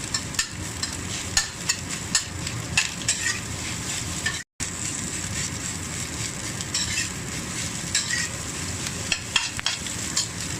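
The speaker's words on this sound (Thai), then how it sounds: "ไฟแรงผัดให้ ข้าวแตกร่วนเป็นเม็ดเป็นเม็ดนี้เลยค่ะ" Rice stir-fried over high heat in a wok gives off a constant crackling sizzle, with quick scraping and tossing strokes all the way through and a very short gap partway in.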